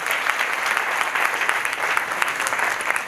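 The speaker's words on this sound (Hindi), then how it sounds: "महिपाल जी के लिए जबरदस्त तालियां" Loud, dense applause from a large audience at a company training event, a continuous bright wash of clapping with no pauses.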